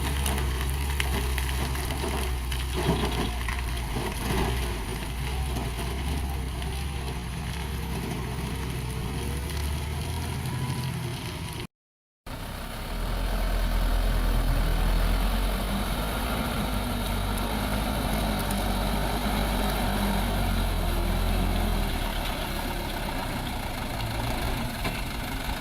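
A truck engine idles and revs in a low, steady rumble on a deadly muddy track, with a brief dropout midway and then a louder, grinding engine drone.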